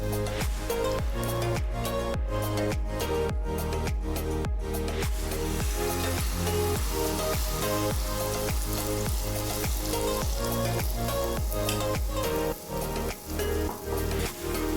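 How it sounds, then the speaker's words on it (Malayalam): An Iftar snack fries in hot oil in a pan over medium heat, giving a loud, continuous crackling sizzle close up throughout, with the spatters briefly thinning near the end. "ഇങ്ങനെ തിരിച്ചും മറിച്ചിട്ടിട്ട് നമുക്കിത് വേവിച്ചെടുക്കാം പൊരിച്ചെടുക്കാം"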